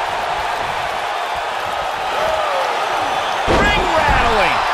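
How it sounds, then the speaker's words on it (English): Wrestling ring rattling from a slam in the WWE 2K19 video game, a loud thudding impact midway through, over steady arena crowd noise and commentary. "Ring rattling."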